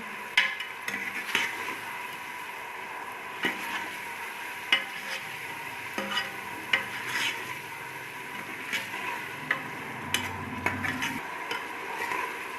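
Onions fry in a pan for an aloo mutton dish, giving a steady low sizzle broken by scattered clinks and scrapes of a utensil against the cookware, close by and without speech.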